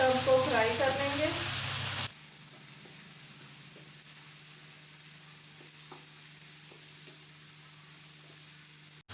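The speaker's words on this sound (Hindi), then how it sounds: "अब हम इन सब को फ्राई कर लेंगे।" Potatoes and bell pepper hiss loudly as they fry in a pan for about two seconds, then the sizzle cuts off abruptly, leaving a low hum with a few faint clicks.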